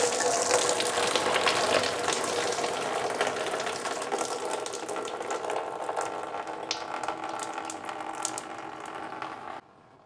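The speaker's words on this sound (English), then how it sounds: "hopefully that bin down there catches most of the coolant" Coolant gushing out of a BMW E46 M3 supercharged radiator after the hose is pulled, splashing into a bin below: a loud, steady rushing pour lasting about nine seconds that cuts off abruptly, with no talk.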